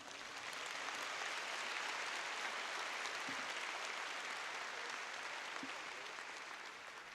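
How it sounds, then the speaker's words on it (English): A large graduation audience at a high school ceremony applauds in a dense, steady wash of clapping that holds for about seven seconds, heard from some distance. "So I think they deserve a nice round of applause."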